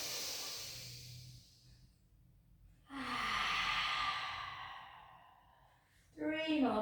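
A person in a pilates rehab session draws a deep breath and lets it out, two soft airy bursts with a quiet pause between, close to the mic and alone.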